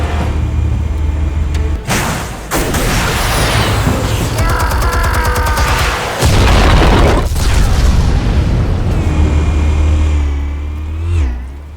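Explosives detonating in the Batman: The Telltale Series video game, a series of loud booming blasts with crackling bursts and rumbling debris, plus engine-like roars, filling the scene without speech.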